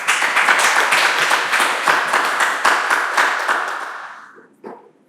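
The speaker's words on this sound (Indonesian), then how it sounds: "Sekali lagi berikan tepuk tangan yang meriah untuk Bu Kumang Sri Yuliani" Audience applause after a teacher's presentation at a school dissemination event, many hands clapping steadily and fairly close, then thinning and fading out near the end with a last few claps.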